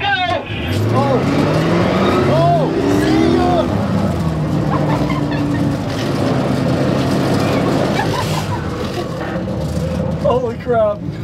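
A car accelerating hard during a race, its engine note climbing and dropping through gear changes, loud and close from inside the car, with excited voices talking over it.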